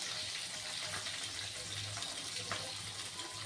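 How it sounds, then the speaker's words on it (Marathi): Sliced onion frying in hot oil with garlic for a dal tadka, a steady, moderately quiet sizzle and bubbling hiss that runs unbroken with no voices. "आपण कांदा उभा चिरायचा आणि तो तेलामध्ये टाकायचा"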